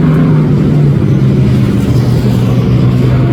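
Streetstock race cars roar around the track at a 25-lap race, a loud continuous engine drone with steady tone and no breaks, close and dominant.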